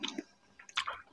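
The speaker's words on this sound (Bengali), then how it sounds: "ঝোলের মতন খাচ্ছি টেনে টেনে" Someone eating chopped green mango chutney, sweet-sour and runny, slurping it off a banana leaf like soup: short wet sucking and squishing sounds in two brief bursts, close and quiet, with no talk.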